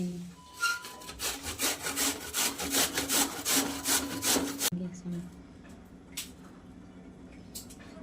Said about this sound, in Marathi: तीन बटाटे आपण आहे ना खिसून घेऊयात